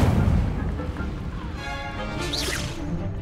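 The Incendio fire spell cast in the Hogwarts Legacy video game, a loud burst and whoosh of magical fire followed by crackling and bright shimmering tones, with game sounds continuing underneath.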